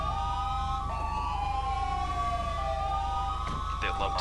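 A GTA 5 fire department vehicle's wailing emergency siren sweeps up and down steadily under a constant low engine rumble, with a few short bright electronic blips near the end.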